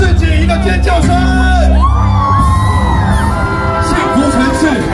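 Crowd at a New Year's Eve countdown event in Taoyuan, loud and continuous, with whoops, yells and cheering voices swelling across the whole stretch amid sustained musical tones.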